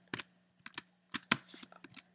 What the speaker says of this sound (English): you're going to hear a boatload of clicking from me